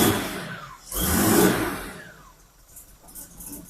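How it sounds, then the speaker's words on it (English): A classic car engine that is running poorly revs up once to a loud rough roar, then drops back to an uneven, sputtering idle. "Just get a feel for the momentum of the engine and its tone"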